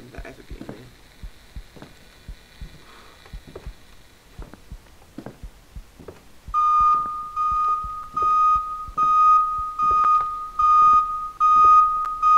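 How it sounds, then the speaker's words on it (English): A loud electronic alarm, either an intruder or smoke alarm, sounds as a steady high-pitched tone pulsing in regular repeated beeps. Quieter clicks and taps come before it starts. "So is that an intruder alarm or a smoke safety?"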